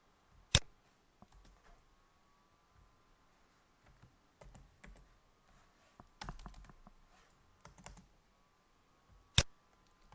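Keys on a computer keyboard tapped in scattered short bursts while typing an HTML page title, quiet and close, with two sharper clicks standing out above the soft patter.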